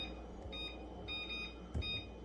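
Kitchen timer beeping while biscuits bake, a few faint high-pitched electronic beeps in short pairs over low room noise.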